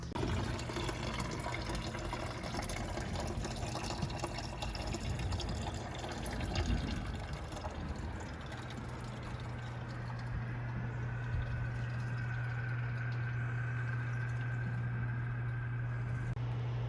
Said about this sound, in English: got the coolant drained